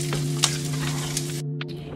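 Steak and beef sizzle in a pan, a steady close frying hiss with a low hum beneath and a few brief stirring scrapes, quieting sharply near the end.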